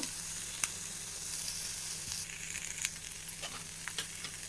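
Oats and tomato frying in a pan, giving a steady close sizzle and hiss with a few sharp pops and crackles scattered through, no voices over it.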